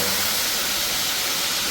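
Wet gunda drop into hot oil, producing a loud, dense, continuous sizzling hiss that fills the whole short moment at close range, with no voices.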